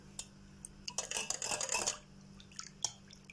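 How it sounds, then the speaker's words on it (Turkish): Three eggs whisked with yogurt in a bowl make a brief flurry of clinking, tapping strokes against the bowl, with a few faint scattered taps before and after. "İyice yumurtalarla yoğurtlu çırpıyorum."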